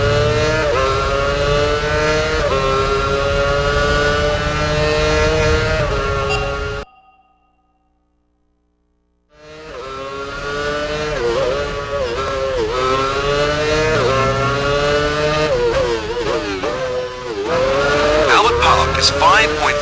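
A Formula 1 race car engine in the F1 Championship Edition video game screams at high revs, climbing through the gears with rising, whining pitch sweeps. It cuts to silence for a few seconds, then roars back and keeps accelerating under commentary.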